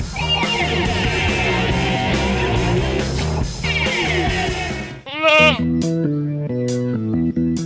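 A male gembrong goat gives a few short, harmonic bleats close by, following several seconds of dense, steady background sound.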